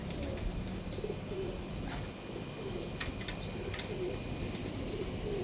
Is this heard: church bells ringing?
no